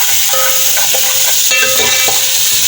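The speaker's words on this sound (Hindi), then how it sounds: "इसको भी फ्राई कर लेंगे" About two spoonfuls of ginger garlic paste fry in a pot for Kabuli pulao, giving a steady close sizzle and hiss with light scraping and clinks from stirring, no voices.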